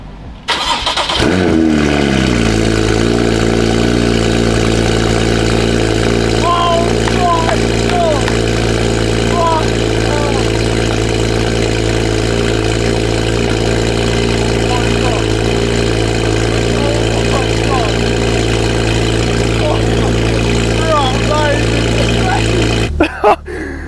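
A loud Porsche Cayman built as a budget GT3 fires up with a sharp crank and catch, then holds a deep, throbbing idle close by for about twenty seconds, with brief voices over it.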